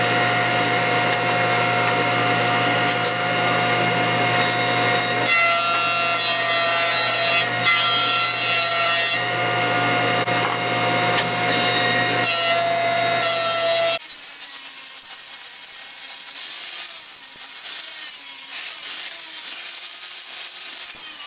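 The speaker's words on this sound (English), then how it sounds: "it makes it a lot easier to put it through the planer" Wood planer running an oak slab through, a steady loud whine and rough cutting roar that drops off partway as the board clears, leaving the motor spinning down; nobody speaks.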